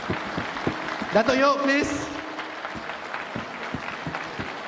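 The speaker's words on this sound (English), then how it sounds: "please give a round of applause" Audience applause fills the room at a fundraising dinner, steady clapping that swells and then carries on beneath a host speaking over a microphone.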